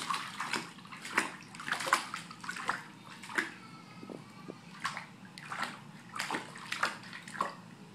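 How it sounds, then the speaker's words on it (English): A baby pats and splashes bathwater in a tub, giving bursts of close, bright splashes in an irregular rhythm, some slow and single, others in quick clusters, with quieter sloshing between them. "then he kind of noticed the water and then started slowly patting the water"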